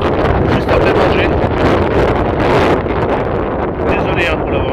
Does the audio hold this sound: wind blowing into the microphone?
yes